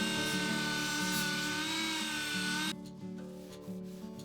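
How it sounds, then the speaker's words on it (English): A Dremel rotary tool with a polishing wheel whines against the frets of a handmade acoustic guitar, a steady high-pitched tone with a rubbing hum beneath that cuts out partway through, leaving faint scraping handling noise. "I found this Dremel tool with the polishing wheel worked amazing for getting the frets to really"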